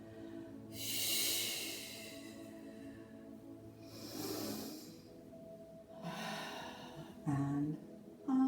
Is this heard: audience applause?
no